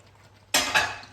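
Vegetables and tomatoes get stirred into chicken jalfrezi in a pan with a sudden scraping, sizzling stir lasting about half a second, then a second scrape, close and fairly loud against a quiet kitchen.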